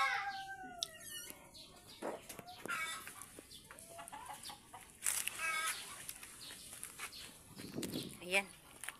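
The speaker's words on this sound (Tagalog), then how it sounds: "ang ingay ng mga manok." A flock of chickens clucks and squawks close by in a rural yard, with repeated bursts of calls mixed with people talking quietly.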